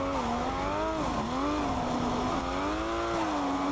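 A car engine roars loud and continuous while the car is held in a drift, its pitch dipping and climbing as the revs swing, with no voices.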